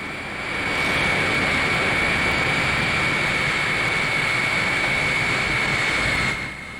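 A restored Boeing 707 jet airliner in flight on its final trip back to Seattle, a loud steady roar of jet engines with a high whine running through it, holding constant before easing off at the end.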